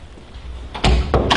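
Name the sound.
front door of house opening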